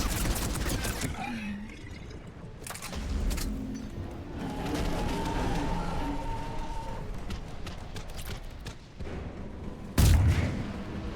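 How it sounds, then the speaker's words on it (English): Explosions and gunfire in the Mass Effect 3 video game, with heavy booming blasts and bursts of shots over continuous combat noise, ending in a loud close explosion. "Everything is exploding."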